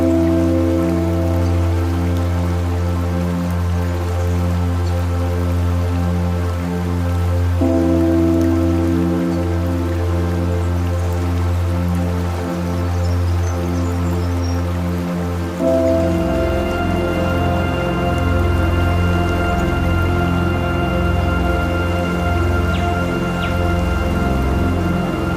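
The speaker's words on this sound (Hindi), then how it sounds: "वाटरफॉल कैसी है उसके बारे में मैं कुछ नहीं बोलूंगा, वो आप खुद देख ले।" A waterfall near Sharan Forest in Naran gives off a steady, loud rush of falling water that fills the whole stretch without a break. Nobody speaks over it.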